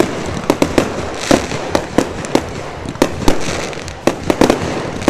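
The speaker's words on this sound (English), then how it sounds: "Fireworks on the track with this man" Fireworks pop and crackle repeatedly at irregular intervals over a dirt racing track at the Outlaw Nationals in Miami, Oklahoma, sharp bursts over a steady crowd-like rumble, moderately distant.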